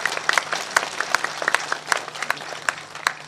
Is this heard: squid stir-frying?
no